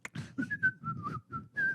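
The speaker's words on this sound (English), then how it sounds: "Whistle while we work." A person whistles a short, bright melodic tune, with clear separate notes in a bouncy rhythm, close and alone with no talking.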